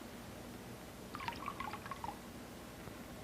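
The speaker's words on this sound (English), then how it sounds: "I pour this indicator dye in the water, and it turns it a dark" Indicator dye is poured into water in a 1950s science experiment, giving a brief, faint cluster of liquid drips and trickles in the middle of a quiet, hissy background.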